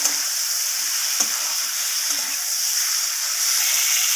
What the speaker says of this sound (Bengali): হালকাভাবে মাছটাকে আমি ভেজে নেব